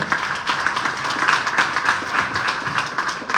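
A hall audience breaks into sustained applause at a school event in Ciudad Obregón, dense clapping filling the whole stretch with steady, even intensity and no pauses.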